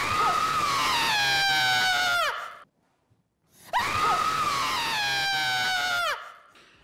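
A woman screams twice during a paranormal TV program, each long piercing cry bending downward in pitch before breaking off, separated by a second of near silence.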